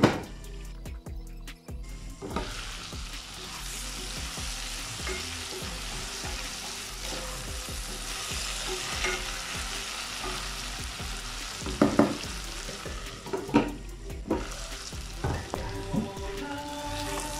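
Potatoes and bitter gourd fry in a pan with a continuous sizzle, broken by scraping stirs and sharp clinks of the utensil against the pan, close by and with no talking.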